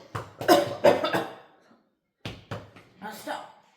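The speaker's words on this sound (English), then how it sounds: "When somebody is coughing or choking when they're eating" A person coughing and choking while eating, several sharp harsh coughs in a cluster, a short pause, then a few more close, loud bursts.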